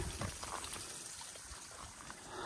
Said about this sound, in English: this really cool rock face covered in moss and the waterfall coming